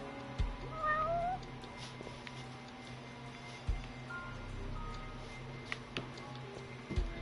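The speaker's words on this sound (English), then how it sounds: "I know y'all heard a meow." A cat meows a couple of times, fairly faint, with a few light taps and clicks scattered around a quiet room.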